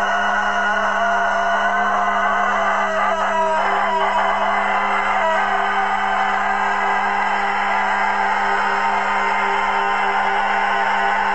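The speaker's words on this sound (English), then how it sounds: "To make this a little bit more interesting, I'm gonna try to beat this rooster." A rooster crows outdoors across several seconds, with a steady sustained tone held underneath the calls. The whole scene stays fairly quiet and even.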